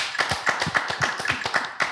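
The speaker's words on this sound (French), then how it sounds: "Applaudissons le nouveau..." Applause for a new music columnist on a French TV show: a small, brisk burst of clapping with quick sharp claps in a steady patter, close and fairly loud, without voices.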